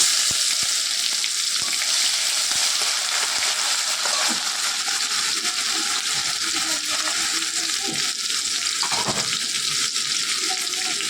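Garlic fries in hot oil with a bay leaf, a loud, steady close sizzle with intermittent clatter of a spoon against the pan and no voices over it.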